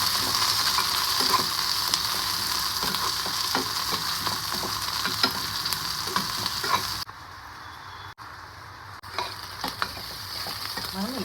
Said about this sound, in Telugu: ఉప్పు, పసుపు వేసేసి ఇది కూడా దూరగా పచ్చి వాసన పోయే వరకు వేయించుకోవాలండి